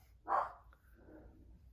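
A dog gives one close, sharp bark indoors, followed by quiet room tone.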